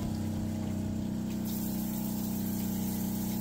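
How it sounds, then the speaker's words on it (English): Water runs from an RV toilet hose with the pedal held down, a steady close pumping whir and rushing flow that holds constant throughout. "You have to push the pedal down to get the hose to work though."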